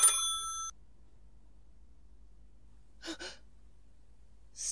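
An old-time radio drama telephone bell rings briefly at the start with bright metallic tones, followed by near silence, a gasping breath and another short burst of sound at the end.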